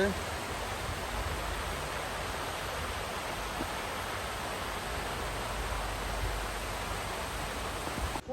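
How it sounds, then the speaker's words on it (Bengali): A mountain stream and waterfall in China rushing steadily, a dense even hiss of flowing water filling the scene without pause from start to finish. "এখানে দেখতে পাচ্ছেন ঝর্ণা দ্বারা বয়ে যাচ্ছে"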